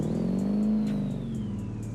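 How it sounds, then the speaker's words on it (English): A big diesel engine in the BeamNG driving game rumbles steadily at a low, even pitch, a loud continuous drone with a faint whine rising above it and no talk. "Nothing like a big diesel rumbling through the night in Italy."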